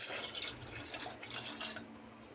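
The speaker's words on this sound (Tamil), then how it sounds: "கொஞ்சம் தண்ணி ஊற்றிக்கோங்க," Water pours steadily into a cooking pot with a splashing, gurgling wash, close by and continuous for a couple of seconds.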